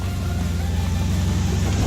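A 2018 Mercedes-Benz G-Class crawls off-road over an obstacle, its engine giving a steady low rumble with a faint rhythmic throb, close and continuous with no pauses.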